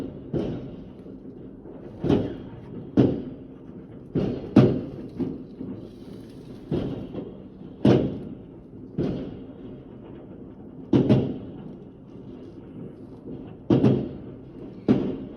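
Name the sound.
fireworks exploding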